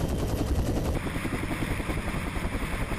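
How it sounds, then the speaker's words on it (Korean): A Korean Marine Corps special forces military helicopter hovers high above the drop zone at around 7,000 feet, its rotor a dense, rapid chopping thrum with steady loud engine roar throughout, close and continuous. "드디어 적당한 강화 지점에 멈춰선 헬기."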